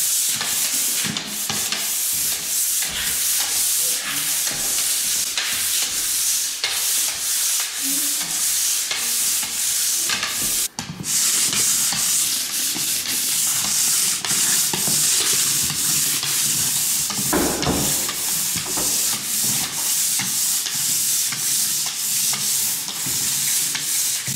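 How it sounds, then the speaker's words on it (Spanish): Sanding of a varnished wooden floor, a steady rough rasping scrape with repeated strokes and a brief pause midway, close and fairly loud, with no voices. "Así que comenzamos a lijar."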